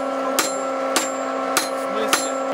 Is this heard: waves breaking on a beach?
no